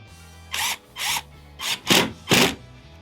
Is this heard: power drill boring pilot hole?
yes